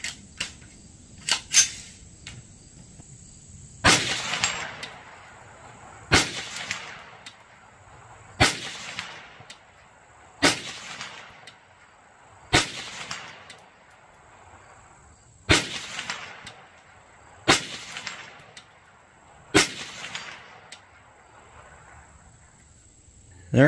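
Shots fired at an 8-inch steel plate target about 130 yards away come as sharp, evenly spaced single reports roughly every two seconds, loud against a quiet outdoor background with insects faintly audible.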